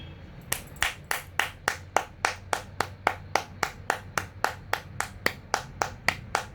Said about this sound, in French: Donc, laissez-moi vous applaudir.